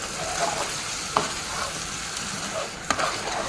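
Low bubbling sizzle from a pan of tomato puree with soft stirring scrapes and a couple of light taps against the pan, no talking.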